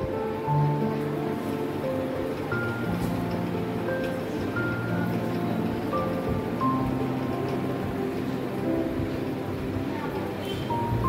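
Palm fruit fritters frying in hot oil make a dense, steady sizzle and crackle that carries on without a break. Soft, quiet speech is heard beneath the bubbling.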